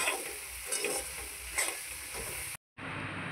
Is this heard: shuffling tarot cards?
no